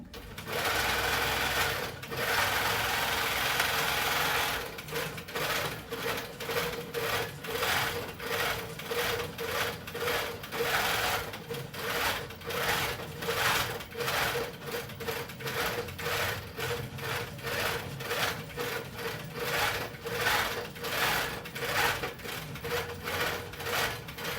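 A Pro Stitcher longarm quilting machine stitching a round Christmas tree skirt, starting with a steady whir and then switching to a rapid, rhythmic clatter of needle strokes that continues close and loud for the whole stretch, with no talking.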